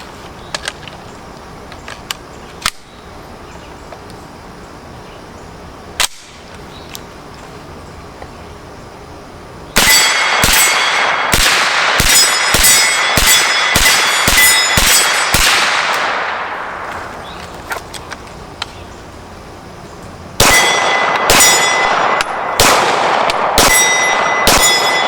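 Shots from a Zenith rifle and a SIG 220 9mm pistol ringing steel targets: two quiet early cracks, then a rapid run of loud sharp reports with metallic rings, a pause, and another fast string of shots near the end.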